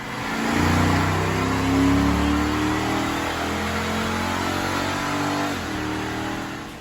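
Rebuilt Melling police car with a 327 V8 running just after starting, a deep rumbling idle that swells with rising and falling revs, close and loud with no talk over it.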